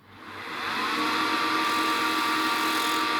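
A homemade grinder on a sharpening jig for a homemade wood lathe's turning tool spins up to a steady, close, whining hum with a bright high-pitched edge, holding level without talk.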